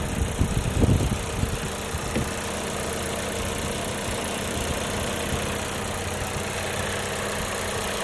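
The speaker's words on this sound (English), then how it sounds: "Hear those direct injectors whirring away." A 2016 Volkswagen Jetta 1.4-litre turbo engine idles steadily nearby with an even mechanical hum and a faint ticking whir of direct injectors, after a brief rustle at the start.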